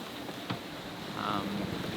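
Strong wind gusting up to 28 knots buffets a Beneteau 423 sailboat on a delivery passage, a steady broadband rush with a brief louder gust partway through.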